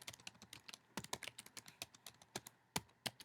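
Typing on a computer keyboard with quick, uneven clicking keystrokes, close and quiet, some keys struck harder than others, with no speech.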